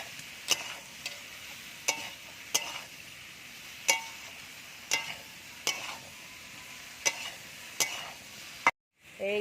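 Fried potatoes sautéed in a pan for a vegetarian jackfruit dish: a soft steady sizzle punctuated by about ten regular, sharp spatula knocks against the pan, ending in a brief silence.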